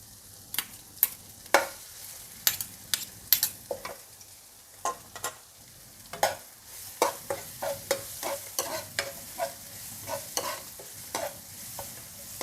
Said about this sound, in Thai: เราก็ผัดพริกแกงให้หอมๆก่อนค่ะ